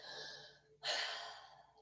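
During a gentle yoga session, a single sharp, airy gasping inhale comes in quietly and close, then trails off into a soft, steady breath with no talking.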